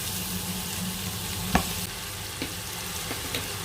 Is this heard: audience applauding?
no